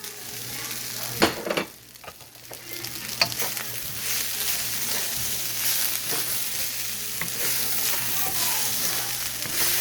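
Pork sizzling in a pan for pork and egg fried rice, a steady close frying hiss with a few stirring clatters early on, alone without talk.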